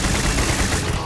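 Rapid, dense automatic weapon fire from the N67 / X989 in the Starfield video game, loud and continuous throughout the short burst with no pauses.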